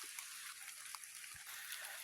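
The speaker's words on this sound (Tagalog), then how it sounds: "Medyo lumalakas ho ang ulan." Steady rain outdoors on a road by the Sierra Madre in the Philippines, a dense continuous hiss of drops with a few brief louder spatters and no voices.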